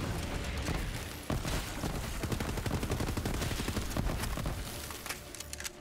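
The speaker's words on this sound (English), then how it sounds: "That was my gun exploding." Bursts of gunfire and a weapon blowing up in the video game Borderlands 3, dense rapid cracks and booms running continuously at loud, close range with no talk over them.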